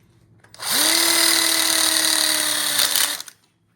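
A power drill drives screws while a gas grill is installed into a DIY outdoor kitchen telescoping module: one close, steady motor whine of about two and a half seconds, spinning up quickly and cutting off, with no talk.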